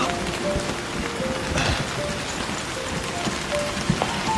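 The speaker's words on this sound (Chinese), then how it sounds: "下雨了， 赶紧走。" Steady rain falls on a hard surface, a dense, even patter of drops that stays constant and close for the whole stretch with no other sounds.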